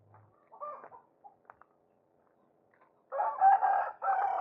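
A village chicken rooster crows once, fairly near and clear, after a few short scattered sounds in an otherwise quiet setting.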